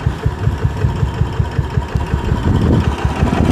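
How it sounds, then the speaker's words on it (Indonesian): A Yamaha SR400 scrambler motorcycle single-cylinder engine idling up close, with a steady, loud pulsing thump and a busy mechanical chatter above it. "Suara klepnya berasa banget ya"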